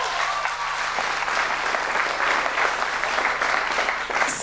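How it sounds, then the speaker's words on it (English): Audience applause for Rex Pearson of the music tech department at a school concert, a sustained even round of clapping from a large crowd, steady and fairly close. "Please give Rex a big round of applause"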